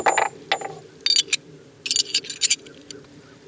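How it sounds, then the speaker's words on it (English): Short metallic clicks and rattles as a Lonewolf 40-9 conversion barrel is fitted into a Glock 23 Gen 4 pistol, several brief close handling clacks in bursts. "we're using the Glock 23 Gen 4 with a Lonewolf 40-9 conversion barrel. So let's just stick it in here and see how it works."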